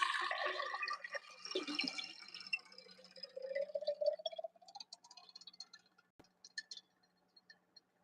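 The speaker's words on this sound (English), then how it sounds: "In goes our deionized water." Deionized water poured into a lab container, a splashing trickle whose pitch rises steadily as the vessel fills, then breaks into scattered drips and small clinks, quiet and close.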